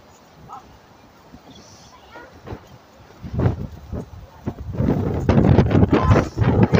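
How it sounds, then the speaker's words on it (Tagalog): Strong wind buffets a phone microphone by the seaside, with low rumbling gusts that build and grow louder toward the end, alongside brief bursts of voice. "Nililipad ng hangin yung cellphone ko."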